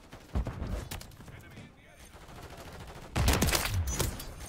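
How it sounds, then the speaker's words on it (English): Bursts of gunfire in a first-person shooter game, two rapid volleys separated by a quieter gap, fairly faint and mixed with game sounds and a player's voice talking over them. "Where is Bro shooting me from?"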